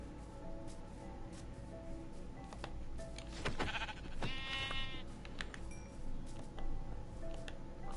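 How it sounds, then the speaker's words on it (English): Brown sheep bleat a few times at close range in Minecraft, amid a busy, noisy background with faint clinks and rustling. "that's a brown sheep, dude."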